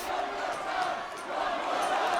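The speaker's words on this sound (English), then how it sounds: "You can hear the crowd." Wrestling arena crowd at TNA Genesis 2006 during the Kurt Angle versus Samoa Joe match, a dense, sustained roar of yelling fans that swells steadily throughout, with a voice faintly mixed in.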